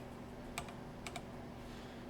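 A few quick, crisp key presses on a computer keyboard during 3D modeling work in Maya, isolated clicks over a steady low hum in a quiet room.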